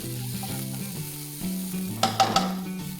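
Crushed raw green peas sauté in a pan with a low sizzle and a faint tonal hum, followed by a short burst of scraping stirring strokes near the end, close by.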